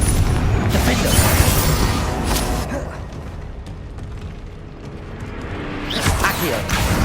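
Booming spell blasts and whooshes from Confringo fire in the video game Hogwarts Legacy, a loud burst at the start and another near the end over a steady rumbling battle background.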